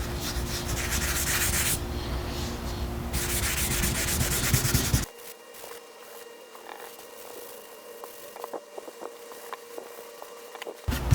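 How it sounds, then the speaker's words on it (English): Wood wax made of beeswax, mineral oil and vitamin E is rubbed onto an old wooden cutting board, with a loud, dense scrubbing for about five seconds, then quieter, intermittent rubs and light taps close by. "I'm going to put in a thin layer of wax, dry for 15 minutes, then buff with a rag."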